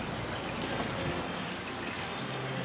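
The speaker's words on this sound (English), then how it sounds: "Freshwater hot and cold shower wash off." Freshwater hot and cold wash-off shower running on a 2016 Sea Ray 350 Sundancer boat, a steady, even hiss of spraying water that stays constant and close throughout.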